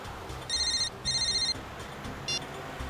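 A telephone rings in short electronic bursts, two clear double rings followed by a brief clipped third, loud and close over a quiet room with no talking.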